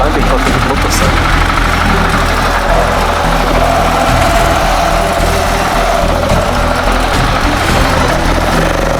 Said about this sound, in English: Start climbing on the motorcycle.